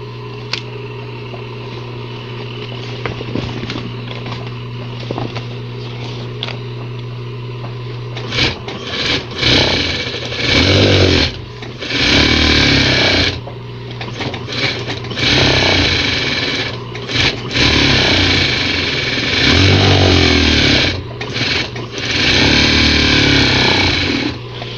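An industrial straight-knife cutting machine slices through fabric and vinyl, its steady motor whine shifting to a harsher, surging buzz in repeated bursts as the blade runs through the material, loud and close.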